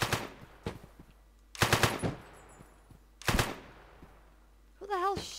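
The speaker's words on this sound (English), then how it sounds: "Who the hell's shooting?" Gunfire rattles in bursts in the online multiplayer game One Armed Robber during a jewellery store and bank robbery: three loud automatic volleys spaced a second or two apart, then a rising whine or siren-like tone near the end.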